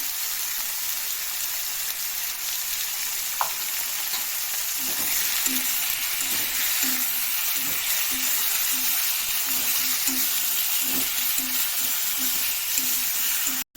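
Spices with salt and turmeric are stirred in a hot frying pan for a fish and pointed gourd curry, giving a steady close sizzle with a soft rhythmic scraping of the spoon building from midway.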